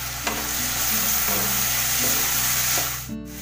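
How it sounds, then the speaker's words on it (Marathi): A spiced eggplant and potato curry is stirred in a pan, giving a steady sizzle and hiss with soft, periodic scraping strokes, close and moderately loud. "आणि आता जरा मिक्स करून घेऊया आपण."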